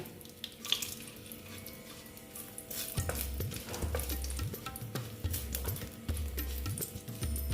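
Bay leaf and dried red chili fry in hot oil for a vegetarian pumpkin dish, giving a quiet sizzle that grows busier after a few seconds, with a run of soft rhythmic stirring scrapes near the pan and no talking.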